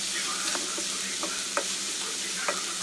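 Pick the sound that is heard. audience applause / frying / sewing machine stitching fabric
frying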